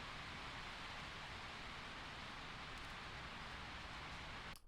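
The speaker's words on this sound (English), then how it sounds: "there's a lot of rain outside. It's hitting the roof" Heavy rain drums on a roof, heard from inside an office as a dense, even hiss that holds steady and then cuts off abruptly at the end.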